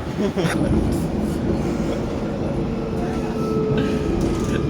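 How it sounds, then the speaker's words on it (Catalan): A London Underground train rumbles along inside the tunnel, with a loud low roar, rattling wheels and faint squeals, while people talk quietly beneath the noise. "Després d'una estona buscant la línia de metro, la Circle, estem al metro."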